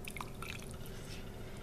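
A quarter cup of water goes into a butter and sweet potato mixture for Southern sweet potatoes with bacon, giving a few faint drips and a soft trickle over a steady low background hum, with no talking.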